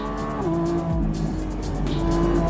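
Lamborghini Revuelto V12 supercar driven on a race track, the engine note close and loud, dropping and rising through gear changes, with a brief tire squeal and no talking.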